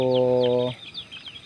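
A rooster gives a short, sustained call close by at night, followed by soft clucking and scratchy background rustle from chicks and roosters.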